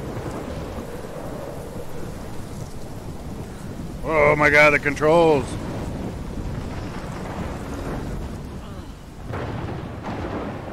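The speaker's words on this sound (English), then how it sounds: "I've never seen a storm like this in Oregon." A heavy thunderstorm with steady rain from the Life is Strange video game, a continuous rumbling wash of rain and thunder throughout while a person speaks briefly in the middle.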